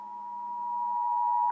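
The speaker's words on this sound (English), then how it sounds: "Why is my phone going off?" A phone notification beep: a single steady electronic tone, clear and moderately loud, holding for over a second with a faint low hum beneath it.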